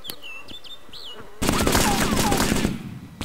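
A PKM machine gun in the video game DayZ opens up in a loud, sustained burst of cover fire, cutting in after a quiet stretch of chirping insects or birds and rattling on for nearly two seconds.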